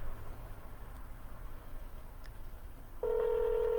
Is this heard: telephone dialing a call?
yes